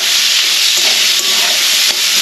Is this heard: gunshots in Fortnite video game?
no